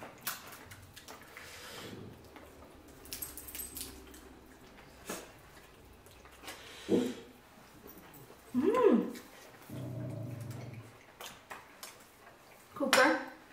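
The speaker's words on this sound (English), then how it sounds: "He always looks at himself and barks." A dog barks at its own reflection with a few short, scattered yelps and whimpers among clinking cutlery and dishes at a seafood boil meal, with quiet voices nearby.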